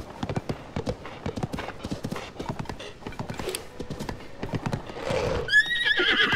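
A horse in Legend of Zelda: Tears of the Kingdom trots with steady clip-clopping hooves, then lets out a loud whinny near the end, heard close and clear.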